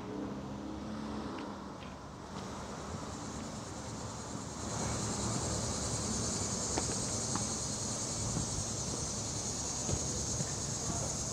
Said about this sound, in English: You can tell the cicadas are really acting up today.